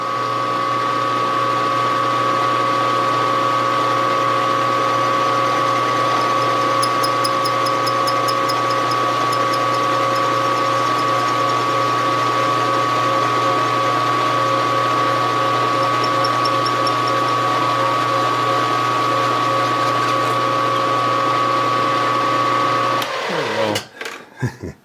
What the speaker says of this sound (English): I don't really like drilling sheet metal unless it's clamped